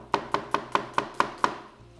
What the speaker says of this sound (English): Chop the red onion.